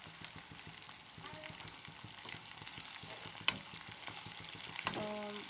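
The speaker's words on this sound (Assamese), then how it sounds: "এতিয়া পিঁয়াজখিনি অকণমান ৰঙচুৱা হোৱালৈকে ফ্ৰাই কৰি থাকিম।" Sliced onions fry in a pan until lightly browned for an Assamese fish dish, giving a soft, quiet sizzle with occasional clinks of a stirring utensil against the pan.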